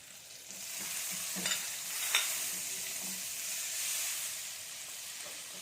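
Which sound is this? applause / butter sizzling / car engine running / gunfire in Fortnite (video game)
butter sizzling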